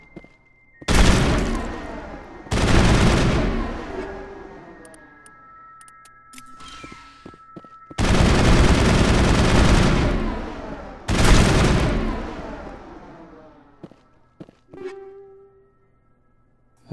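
Gunfire aimed at Rachni eggs in Mass Effect: loud, sustained bursts of shooting in four separated volleys, each a few seconds long, with quieter clicks and thuds between and no talking over them.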